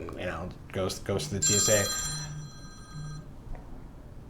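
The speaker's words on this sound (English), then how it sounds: "Sorry, that was my phone ringing." A phone rings with a short electronic ringtone of steady, bright tones lasting about a second, partly overlapping a person talking nearby.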